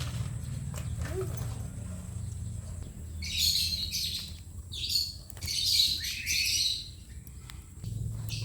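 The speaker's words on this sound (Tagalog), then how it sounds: "Nagliligalig na ang mga alagang ibon." Pet birds chirp and squawk restlessly in several noisy bursts over a low outdoor background, at moderate distance near a charcoal grill.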